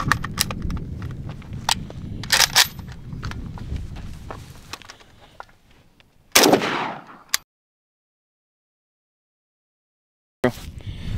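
Tula 7.62x39 rounds fired at a custom armor plate, several sharp distant reports over outdoor rumble, then one loud close shot followed by silence and a final shot.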